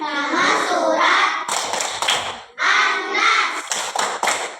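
Children clapping hands in a rhythm in a classroom, with bursts of claps running under their chanting voices and a brief pause between.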